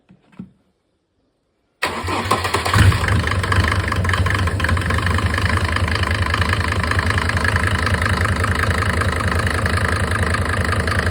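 A Mercedes OM602 2.9-litre diesel engine cranks and catches after a brief silence, then settles into a steady, loud idle with a rough, knocking diesel rhythm.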